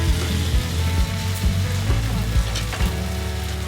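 Fried potatoes and a splash of water go into a hot pan of spiced mushroom and pea masala, setting off a loud, steady sizzle with crackling bursts and faint stirring.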